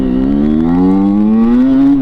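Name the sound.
Derbi Senda 50cc motorcycle engine throttle blip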